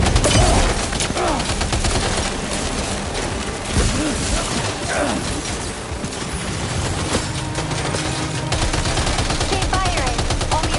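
Dense, continuous gunfire crackles in rapid overlapping bursts, loud and chaotic like a sustained firefight, with shouted voices briefly audible amid the shots.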